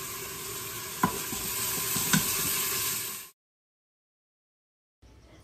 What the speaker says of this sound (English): Here you can see me adding in a tablespoon of minced garlic.